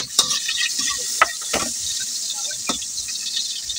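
Garlic sautéing in a hot pan for a sinigang of dried anchovies, giving a steady close sizzle with a few sharp clicks and stirring scrapes, no voices.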